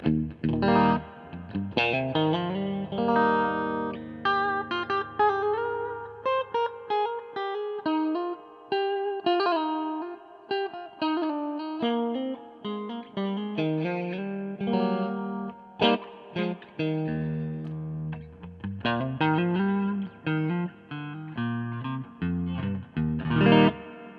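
Electric guitar played through a Hiwatt Crunch 150R amp head with reverb turned up about three-quarters, picked melodic phrases and chords ringing out with spacious, shimmering decay and brief pauses between runs.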